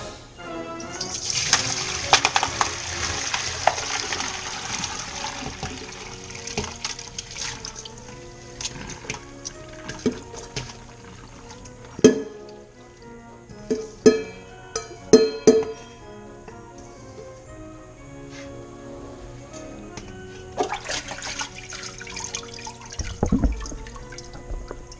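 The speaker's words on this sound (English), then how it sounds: "we're going to transfer these into the colander. Just strain them, get some of the water off" Water trickles and drips from blanched sweet peppers in a colander, with occasional clinks and knocks of handling, close by and steady.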